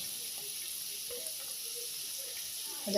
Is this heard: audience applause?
no